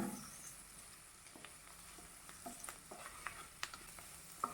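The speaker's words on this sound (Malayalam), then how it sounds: "ഇനി 2 തണ്ട് കറിവേപ്പില കൂടി ഇതിലേക്ക് ചേർത്ത് വഴറ്റിയെടുക്കാം" Chilli powder and curry leaves sauté in hot oil for a Kerala cabbage and potato curry, a soft, steady sizzle broken by light scraping stirs, heard close but quietly, with no voices.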